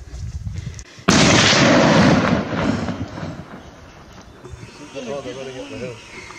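Gunshot fired at a wild pig during a bush hunt on a ridge, a sudden loud blast that rings out and decays over a second or two, followed by voices talking.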